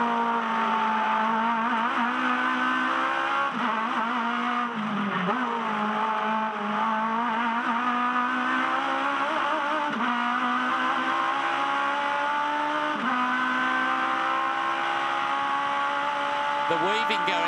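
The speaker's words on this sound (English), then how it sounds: "This is a hot lap in an Aussie racing car." An Aussie Racing Car engine on a hot lap at the Adelaide street circuit roars loud and close, its pitch climbing steadily through the gears with brief dips at each upshift, and no talk over it.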